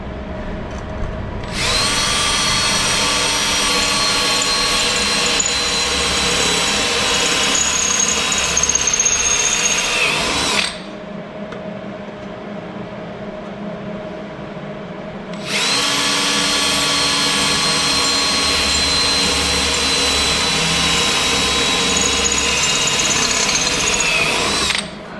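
A power drill bores out plug welds in the sheet-metal cab of a 1961 Chevrolet Apache Suburban. It makes two long, loud, steady high-pitched whines, separated by a pause of about five seconds in which a lower background hum carries on.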